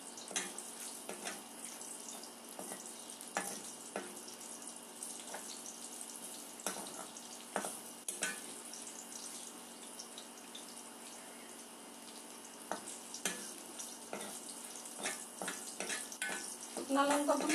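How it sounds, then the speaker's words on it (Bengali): Dried red chillies fry in a pan for a dish of dheki fern greens, giving a steady close sizzle with scattered crackles and scraping stirs that grow busier toward the end. "শুকনো লঙ্কাগুলি লাল করে ভাজা হয়ে যাচ্ছে।"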